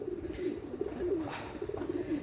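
Pakistani pigeons give soft, low, repeated coos close by, faint, with a light background hiss.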